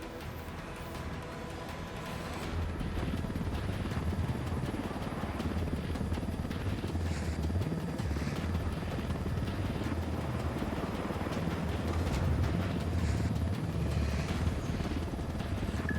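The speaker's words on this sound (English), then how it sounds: "Let's take these choppers out." Helicopters in the video game Ghost Recon Wildlands fill the scene with a steady, loud rotor and engine roar that thickens after the first couple of seconds and holds continuously.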